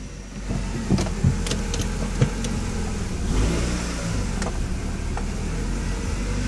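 A Honda CB7 motorcycle engine running rough on contaminated fuel idles with an uneven low rumble, punctuated by sharp mechanical clicks and a brief surge in revs, heard up close.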